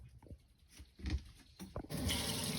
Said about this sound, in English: I can confirm now the water is running warm